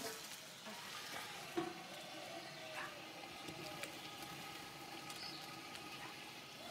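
A pot of food cooks with thyme, celery and salt, giving a low, steady sizzle and faint stirring scrapes close by, with no voices.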